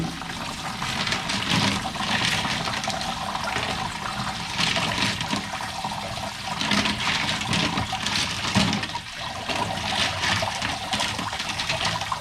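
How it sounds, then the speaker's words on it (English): Amethyst stones being dumped out and rinsed off with water after the third tumbling stage, a steady rushing pour and trickle of water running continuously and fairly loud, no talking. "We're going to go ahead and get this dumped out and rinsed off."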